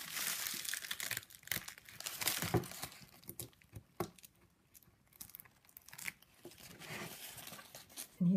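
Water-soluble embroidery stabilizer is torn away from stitching on an in-the-hoop zipped ladybug purse, with repeated close crinkling and ripping sounds in irregular bursts and short pauses.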